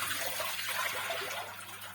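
Peeled Jerusalem artichokes being washed in water, a steady close hiss of running water splashing in a kitchen, continuous and fairly loud with no talking.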